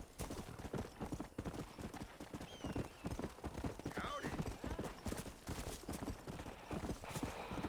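Horse galloping in the Red Dead Redemption video game, a steady rapid clip-clop of hooves running throughout, close and fairly loud, with a brief whinny partway through.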